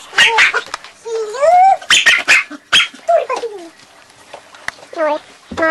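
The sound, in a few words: dog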